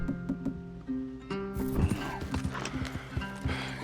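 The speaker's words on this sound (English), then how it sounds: "Leave the horses in the trees there." Horses in the video game Red Dead Redemption 2 trot with quick clip-clop hoofbeats while one lets out a loud, shrill whinny, close and clear throughout the short stretch.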